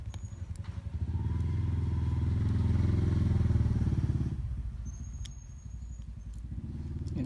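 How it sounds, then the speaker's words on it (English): A motor vehicle passes outside, its engine rumble swelling to a peak and fading over several seconds, heard moderately loud behind an indoor setting with faint background noise. "There's a vehicle coming. So, sorry for the background noises."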